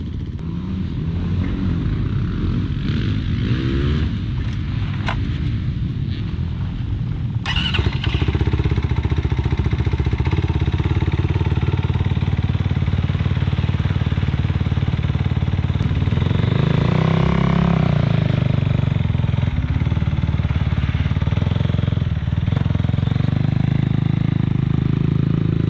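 A motorbike engine running steadily and loud through the whole stretch during warm-up laps on a jump track, its drone holding at a constant level with slight shifts in pitch and no talking.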